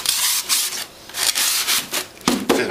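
Styrofoam pieces being pushed and packed tightly into a shipping box, giving a series of squeaky rubbing scrapes in short bursts with brief pauses between them, close and fairly loud.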